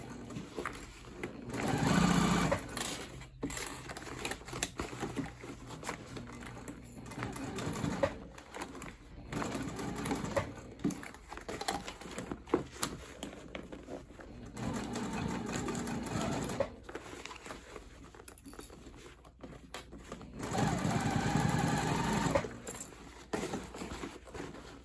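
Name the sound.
sewing machine sewing top seam of crossbody bag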